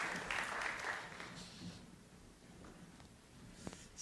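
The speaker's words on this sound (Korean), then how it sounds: "하나님께 영광의 박수를 드리겠습니다" A church congregation claps during a worship service, moderately loud at first and then tapering to a softer patter, with a brief louder clap near the end.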